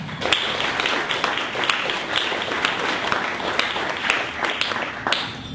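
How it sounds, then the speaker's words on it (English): Steady applause from an audience, dense clapping filling the room with sharp individual claps standing out. "And so let's give Jim a warm round of applause and welcome him."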